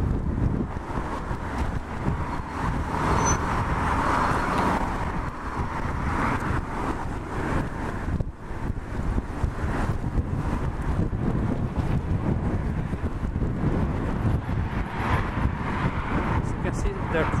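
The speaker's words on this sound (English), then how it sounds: "wind is making the cold worse." Cold wind gusts along a downtown Toronto street, heading eastbound on Front Street, as a steady broadband rumble and buffeting on the microphone that runs for the whole stretch, loud and continuous.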